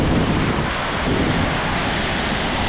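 Wind-driven waves from Lake Michigan crash on a rocky beach during a windstorm, a steady loud roar of surf and wind buffeting the microphone close by, with no talking.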